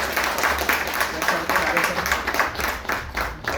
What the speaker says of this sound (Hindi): तो मैं सभी से आग्रह करूंगा कि एक बार जोरदार तालियां बजाए